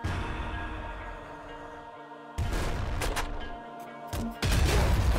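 Gunfire from the video game Nuclear Throne, including shotgun-style weapons, arrives as rapid crackling bursts over a humming game background, with a sharp loud blast near the end.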